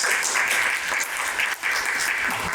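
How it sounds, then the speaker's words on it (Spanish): Conference audience applauding steadily and densely, a room full of clapping hands close by that holds for a couple of seconds with a brief dip near the middle. "Un aplauso para ella."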